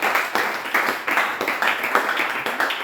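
A church congregation claps together while acclaiming the Lord, with loud, close, rhythmic clapping in steady beats about three per second and a faint murmur of voices underneath.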